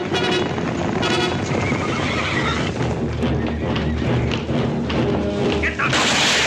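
Horses whinny loudly over a busy, dense mix of hoofbeats, thuds and commotion in an Old West scene, the neighing rising clearly near the end.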